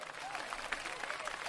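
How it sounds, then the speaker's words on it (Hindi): An audience at a Hindi comedy poetry show applauds a poet being called to the stage, soft, steady crowd clapping heard from a distance at low volume throughout. "तालियां"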